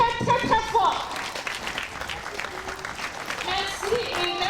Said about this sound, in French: je demande à ce qu'on les applaudisse très très très fort